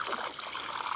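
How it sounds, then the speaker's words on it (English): Water clarifier pours from a bottle into a swimming pool as a continuous close splashing trickle with no talk. "So I just walk around the pool and I pour it in."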